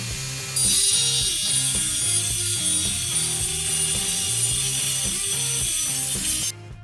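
A table saw rips straight through a wooden crosscut sled, a loud, sustained grinding cut that kicks in abruptly, carries a rough, pulsing mechanical texture for several seconds, then cuts off sharply.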